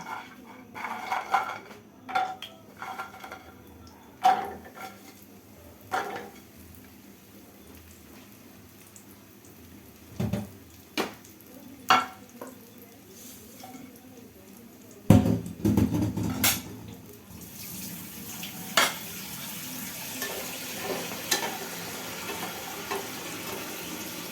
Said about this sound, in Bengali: কুমড়ো বড়িগুলো আমি এখন খুব ভালো করে ভেজে নেব